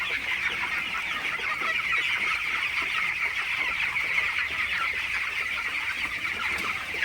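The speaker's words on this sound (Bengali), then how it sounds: "আপনারা দেখতে পাচ্ছেন মশালা মুরগিগুলো খুবই ভালো আছে সুস্থ আছে" A flock of healthy broiler chickens in their coop makes a steady, busy mass of close, high-pitched clucking and cheeping that runs throughout without any voices.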